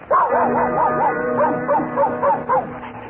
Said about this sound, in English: presenting that famous canine basso, Pluto the Pup